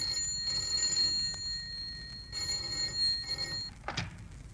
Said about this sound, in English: the trouble first appeared as the commonplace ringing of a telephone